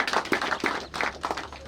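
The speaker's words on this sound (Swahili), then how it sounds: "Makofi vizuri tafadhali." Short burst of applause from a small crowd at a Tharaka Nithi, Meru and Embu waste management MoU signing ceremony, uneven claps close by with a brief pause midway.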